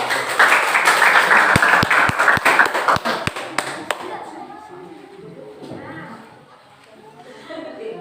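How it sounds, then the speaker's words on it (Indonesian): A classroom audience applauds as group 1 comes to the front, a lively burst of clapping with several distinct sharp claps that fades out after about four seconds, followed by quieter voices and room chatter. "berikan tepuk tangan untuk kelompok 1"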